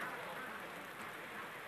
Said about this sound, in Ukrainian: дощик іде.